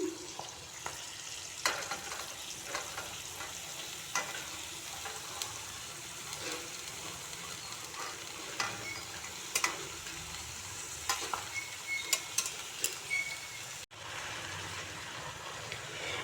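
Cabbage and peas sizzle steadily as they fry in a pan, with a spatula scraping and stirring against the metal throughout, close and fairly loud, with no talking.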